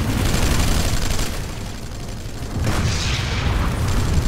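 A deep grenade blast in the Planetside 2 game rumbles loudly amid ongoing battle noise, with a second heavy boom following partway through.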